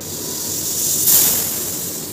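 A pressure cooker cooking tarka dal lets out a loud, steady steam hiss that swells briefly in the middle before easing off.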